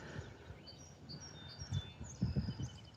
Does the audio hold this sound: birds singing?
yes